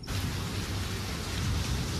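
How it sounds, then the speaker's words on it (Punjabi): Morning rain falls steadily, a dense, even hiss of drops on surfaces nearby with no voices over it. "ਸੋ ਅੱਜ ਹੋ ਰਹੀ ਆ ਬਾਰਿਸ਼ ਸਵੇਰੇ ਸਵੇਰੇ"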